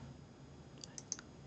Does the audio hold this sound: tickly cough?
no